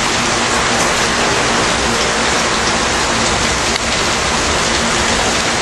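Heavy rain pouring in Charlotte, a loud, dense and unbroken roar of falling water close by, with no voices.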